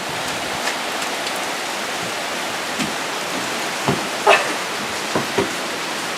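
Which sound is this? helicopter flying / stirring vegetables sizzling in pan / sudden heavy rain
sudden heavy rain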